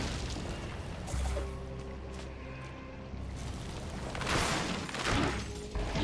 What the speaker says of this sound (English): Thanks for the in-game fireworks.